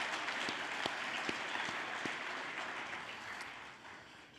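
Audience at the 2024 Dancing with the St. Louis Stars gala applauds a cocktail hour sponsor: a steady, dense wash of clapping from a crowd, holding evenly before tapering slightly toward the end, with no voices over it.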